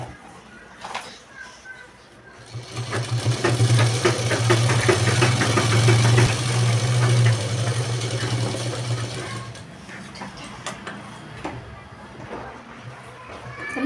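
A sewing machine runs a steady straight stitch along a blouse lining for about seven seconds, loud and close, with quieter handling sounds before and after.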